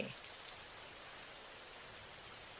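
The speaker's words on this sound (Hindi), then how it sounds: "इस बारिश का पानी तो कितना ठंडा है।" Steady rain falls in a Hindi children's cartoon, a dense even hiss that runs unbroken from start to finish at low volume.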